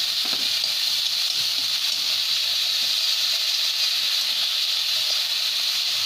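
Cauliflower pieces sautéing in a pan, a loud continuous hissing sizzle that stays even throughout, close up with no one speaking.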